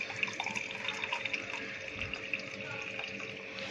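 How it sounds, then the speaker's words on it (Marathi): Water poured from a glass into a cooking mixture for chicken curry, a soft continuous splashing trickle with a faint hum behind it, fairly quiet throughout. "आता मी एवढा पाणी याच्यामध्ये टाकून घेते"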